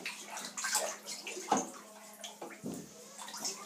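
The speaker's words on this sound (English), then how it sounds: "Now you've got to mix the bath together." Spaghetti hoops and tomato soup being stirred in an orange bathtub, soft irregular sloshing and gurgling swirls, close and fairly quiet.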